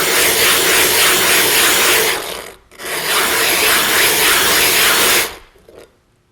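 A coarse silicon carbide sharpening stone is rubbed against another stone, making a loud, steady abrasive scraping in two long strokes with a short pause between them, then stopping.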